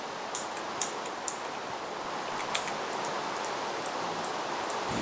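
Steady hiss of rain falling in the blocky game world of Minecraft, a continuous wash of noise with a few faint scattered drop ticks, loud and even throughout, no one talking.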